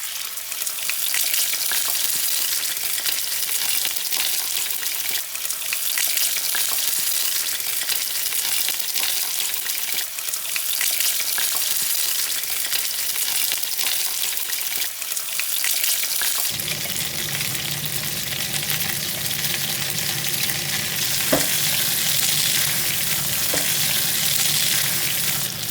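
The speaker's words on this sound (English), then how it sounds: "The oil's reached the right temperature, where you can see it's just spitting when we put the liquid in" Liver sizzles and spits steadily in hot oil in a pan, a dense continuous frying hiss that deepens and thickens partway through as more food goes in, with a few sharp pops near the end.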